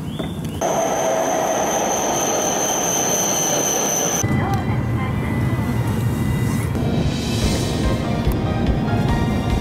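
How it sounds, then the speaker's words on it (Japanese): Shuttle train at Aomori station rumbling loudly and steadily nearby, with a sustained high whine or squeal at the start that cuts off partway through. "新幹線に乗る人のためだけに走っているのがこの列車です。"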